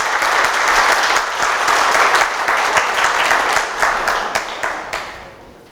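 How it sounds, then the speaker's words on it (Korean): An audience at an offline university lecture on emergency rescue breaks into sustained, loud applause from many hands that gradually thins into scattered claps before fading out. "그래서 뭐 박수 안 쳐요?"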